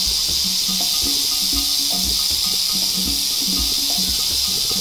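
A rattlesnake hisses with a steady, loud, airy rush throughout, a continuous tone close at hand with faint low knocks beneath it.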